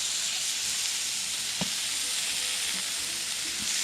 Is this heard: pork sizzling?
yes